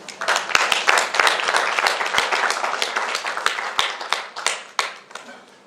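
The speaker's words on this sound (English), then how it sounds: "another round of applause" A conference audience gives a round of applause, a burst of sharp, fairly close claps that thin into scattered individual claps before fading out.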